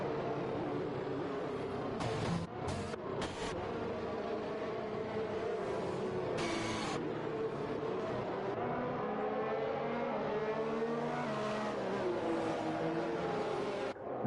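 Formula racing car engines in the F1 2021 video game at the China circuit drone continuously under a safety car period, their pitch rising and falling as the cars accelerate and ease off, with a brief burst of higher engine whine partway through.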